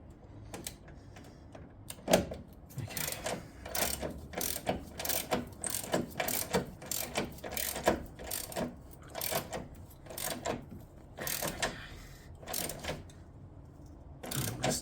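A hand ratchet spins a bolt on the passenger-side engine mount of a 2009 Ford Focus, giving rapid bursts of close, crisp clicking that start and stop repeatedly, with no talking.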